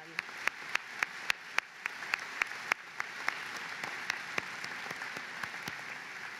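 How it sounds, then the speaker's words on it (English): Scattered applause from a commencement ceremony crowd, sharp individual claps at first, then a steadier patter of many hands continuing throughout. "Let's give a round of applause to your parents, the professors, the higher administration, and yourselves"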